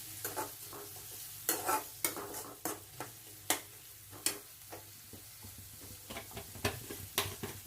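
Roasted green chillies dropped into a hot tempering, with soft sizzling under repeated sharp clicks and scrapes of a spoon stirring in the pan, close and steady.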